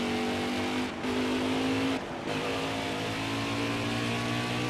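A NASCAR stock car engine in the racing game NASCAR Heat 4 roars loudly and steadily at high revs, with two brief dips around the first and second seconds before the drone resumes.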